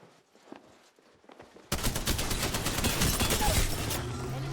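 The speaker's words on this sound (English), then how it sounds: "I'm getting shot at." Sudden burst of loud, sustained automatic gunfire in a video game after a quieter stretch of faint clicks, continuing steadily to the end.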